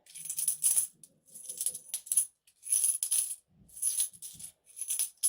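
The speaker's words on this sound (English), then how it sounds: "Silver's got a deeper ting to it." Silver coins clink and ring against each other with a deeper ting in several brief rattling bursts separated by short silences, close and fairly quiet.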